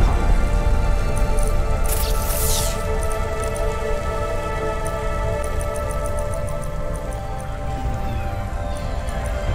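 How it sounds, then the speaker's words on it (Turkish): Rain in the video game Cloudpunk, a steady dense patter of raindrops on surfaces running throughout, loud and continuous, with a brief brighter splash early on and faint ticking in the background. "güm güm güm arkadan bir yağmur sesleri"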